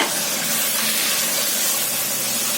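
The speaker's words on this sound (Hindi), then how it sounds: "अदरक और लहसुन को थोड़ी देर भूनने के बाद में अब डाल देंगे हम इसमें मटन।" Loud, continuous hissing sizzle as mutton hits a hot pan with fried ginger-garlic paste, steady throughout with no voices.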